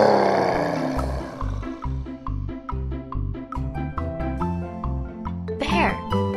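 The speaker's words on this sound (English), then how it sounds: "Bear." A bear roars in a deep, rough growl at the start and again near the end, with a bouncy children's melody of chimes and tones in between.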